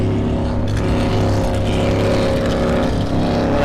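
A racing powerboat at a beach waterfest roars by with a loud, continuous engine drone holding steady throughout, a dense rumbling motor with no talk over it.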